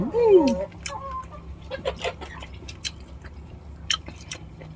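Crunchy chewing of cooked snails served with a thick chili dip, a few crisp bites close to the mic as a person talks, with chickens clucking faintly in the background.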